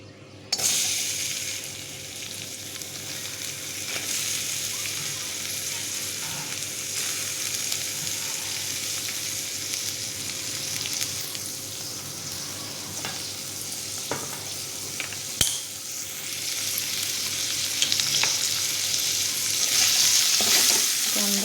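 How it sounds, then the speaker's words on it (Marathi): Onion frying in oil in a pan, a steady close sizzle that runs throughout with occasional scraping stirs and clicks of a utensil, no voices. "ह्याच्यामध्ये थोडं तेल टाकून आपण कांदा भाजून घेऊया"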